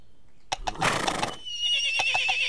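In the video game Jazzpunk, a horse gives one loud, close whinny after a few hoof-like knocks, its shrill neigh trailing off over about a second.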